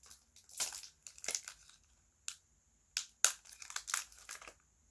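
A foil Pokémon Dragon Majesty card pack is crinkled and torn at close range in several short, sharp bursts of rustling with quiet gaps between them, and nobody talks.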